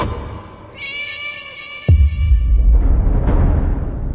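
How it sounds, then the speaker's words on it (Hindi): A cat sitting on a taxi's engine lets out one drawn-out, clear meow, followed by a thump and low rumbling background noise. "वही बिल्ली, और ये तो ड्राइवर अंकल की गाड़ी के इंजन पे बैठी है।"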